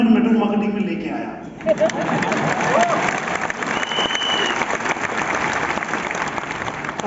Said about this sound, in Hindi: ताली बजाने की जरूरत नहीं